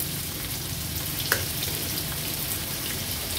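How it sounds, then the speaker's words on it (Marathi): Chopped medium onion and green chilli sizzle in hot oil on a tawa, a steady close frying hiss with a faint crackle and a single light clink. "एक मीडियम साईजचा कांदा आणि एक हिरवी मिरची आपण चिरून घेतली आहे, ती ऍड करूया तेलावर"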